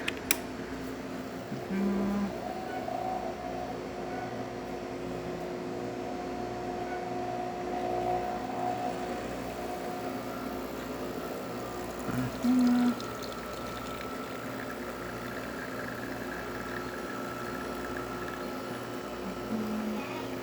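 Breville espresso machine with a newly serviced boiler pulling a test shot, a steady pump hum with coffee pouring for about twenty seconds, close and even, with a brief louder knock midway and no talking.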